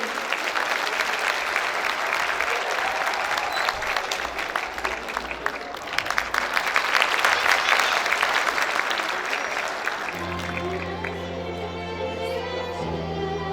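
A school audience at a lise ceremony breaks into loud, dense, sustained applause for about ten seconds, then the clapping gives way to steady musical tones.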